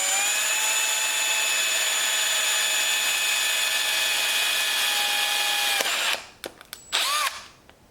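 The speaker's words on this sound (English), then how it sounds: "You notice I'm going pretty slow on the drill." A power drill runs slowly and steadily into the body of a C8 Corvette while a Z06 Z07 conversion wing is fitted, a loud sustained whine that stops near the end, followed by a few short bursts and handling noises.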